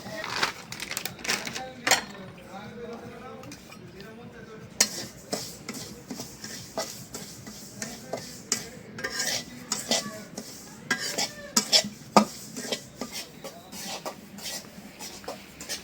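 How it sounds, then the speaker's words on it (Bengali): Semolina is fried and stirred in a wok, with repeated clinks and scrapes of a spoon against metal in an uneven rhythm. "সুজি দিয়ে দিলাম সুজিটা আগে ভাইজে নিই"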